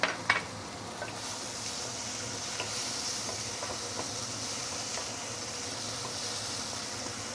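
Tomato sizzling in hot pork oil while a Teochew-style dish is prepared, a steady broadband frying hiss with a sharp clatter at the start and occasional light crackles, close and alone.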